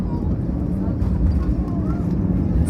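A TAP Air Portugal Airbus A321 lands smoothly at Lisbon, its loud, steady low engine and airflow roar filling the cabin throughout, with a voice speaking over it.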